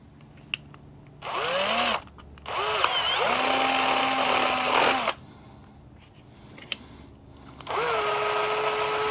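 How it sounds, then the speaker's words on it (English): A power drill whirs in several bursts drilling a hole in brittle material, its motor pitch rising and settling under load, with quiet gaps between runs. "I'm going to drill a hole right here."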